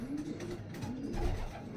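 Racing pigeon being readied for the Florida Pigeon Derby gives soft, low cooing in two short rolling phrases, close but faint against light background noise.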